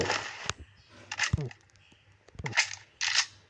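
A few sharp AK47 shots ring out in the PUBG Mobile video game, spaced apart amid other game noises, with a person talking over them.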